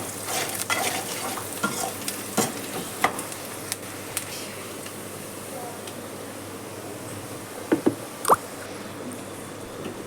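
Spiced masala paste for fish curry fries in a pan after turmeric, a steady soft sizzle broken by scattered stirring scrapes and clicks, with a couple of louder knocks near the end.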